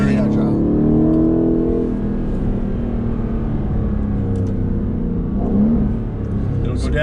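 Aston Martin Vantage engine revs and rises under acceleration on a test drive, a steady loud drone climbing in pitch with a brief rev-matched blip near the end, with people talking over it inside the cabin.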